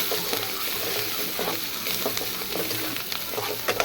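Green chilli and curry leaves frying in hot oil, a dense sizzling hiss with light scraping stirs, close and fairly steady, no speech.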